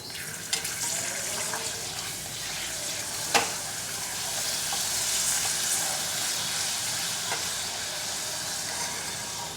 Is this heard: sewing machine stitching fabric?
no